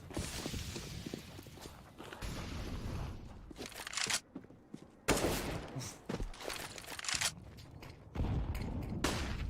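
Gunfire in Counter-Strike on the Dust2 map during a Liquid versus Mousesports match: bursts of shots and sharp cracks with brief gaps between them, loud and close, with crunching movement noise and little talk.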